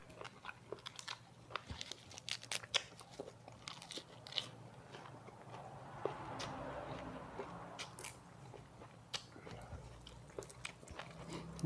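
Crunchy chewing of blanched giant octopus: repeated close, crisp bites and wet crunches in an irregular rhythm, moderately loud, with a brief soft voice partway through.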